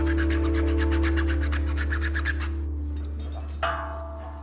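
A junior hacksaw cuts into a cheap £12.99 bicycle cable lock with rapid, even back-and-forth rasping strokes over a low steady hum, then the sawing stops and a faint knock follows.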